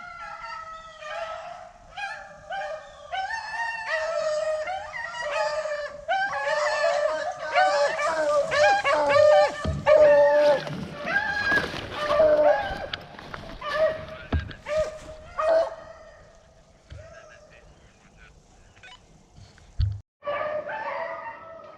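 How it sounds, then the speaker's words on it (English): A pack of hunting dogs chasing rabbits gives repeated, overlapping baying and barking, loud and continuous, with brief pauses near the end. "So we've got dogs scattered everywhere running."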